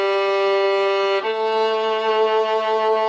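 A violin plays a slow scale with an even bow speed, two long sustained notes with a smooth change between them, played solo and close.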